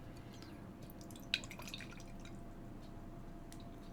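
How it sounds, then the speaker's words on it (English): Motor oil being poured at night, a faint, steady liquid trickle with a few soft drips standing out, heard close up with no talking over it. "We are pouring motor oil tonight."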